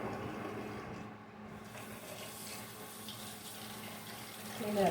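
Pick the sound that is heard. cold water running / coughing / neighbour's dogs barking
cold water running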